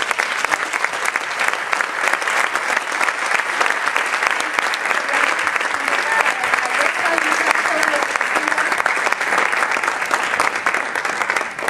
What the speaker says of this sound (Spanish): Entonces quería pedir un aplauso para ella.